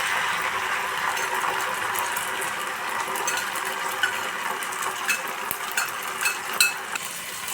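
Ginger garlic paste frying in oil in a pan while being stirred, a steady close sizzle with occasional light scrapes and clinks of a utensil.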